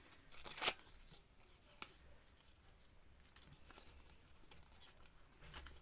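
Paper scraps being torn by hand to make cluster tags, with one sharp rip and a few softer, faint tearing rustles in a quiet room.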